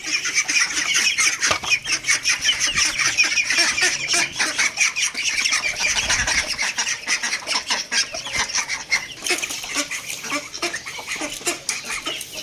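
Ducks and chickens cluck and quack continuously in a busy flock while being fed soaked flatbread, close by, with scattered pecking and rustling throughout.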